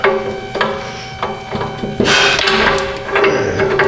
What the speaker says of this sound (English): Try a shorter ratchet, see if we got enough power with that.